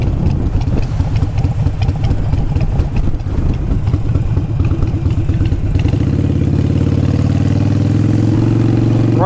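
A Harley-Davidson Sportster Iron 883 rides over a rough road with a loud, steady mid-pitched engine rumble and clattering bumps, then settles into a smoother, throbbing drone with a low, lumpy pulse.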